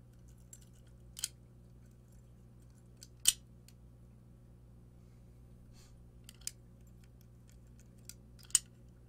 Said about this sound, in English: Nice smooth action and operation on the cylinder.